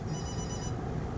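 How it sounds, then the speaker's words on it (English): A telephone rings indoors in a brief electronic trill heard at moderate distance through steady room noise, cutting off after about half a second. "is that your phone, Kathy?"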